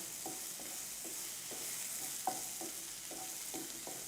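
Cauliflower is stir-fried in a pan with a soft, steady sizzle and regular spoon scrapes about every half second, quiet and near, without any talking.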